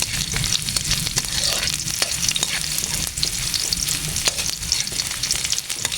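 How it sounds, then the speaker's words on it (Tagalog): Garlic fries loudly in a pan for a mussel tinola, a dense crackling sizzle broken by frequent close scrapes and knocks of a stirring utensil, with no speech. "lagay natin yung ating bawang. Ating lutuin."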